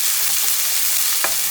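Garlic and onion frying in a very hot cast iron pan, a loud dense continuous hiss that barely changes, heard up close with a brief scrape of a utensil near the end and no voices.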